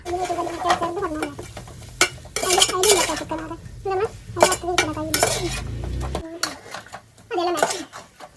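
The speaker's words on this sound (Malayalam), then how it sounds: "ആ വറുത്ത് കോരി മാറ്റി വെച്ച ചിക്കൻ ഇതിലോട്ട് ഇട്ട് കൊടുത്തിട്ട് അത് നന്നായിട്ട് മിക്സ് ചെയ്ത് കൊടുക്കുക" Fried chicken pieces stirred into biryani gravy in a pot, with repeated scraping and clattering of a spoon against metal, some sizzling underneath and a voice talking over it.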